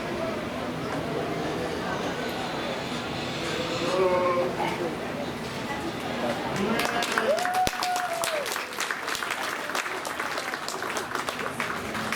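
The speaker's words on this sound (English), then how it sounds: "let's go ahead and give this group one more big round of applause" A crowd at a county fair youth sheep show claps in a sustained round of applause, with sheep bleating nearby and chatter mixed in.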